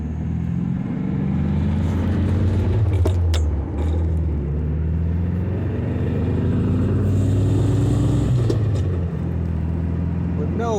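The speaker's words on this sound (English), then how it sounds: "Just cruising down the street in my 1970 Volkswagen." A 1970 Volkswagen Beetle cruises down a street in Redwood City, its air-cooled engine droning steadily from inside the car and shifting pitch as it accelerates and changes gear, with someone talking over it.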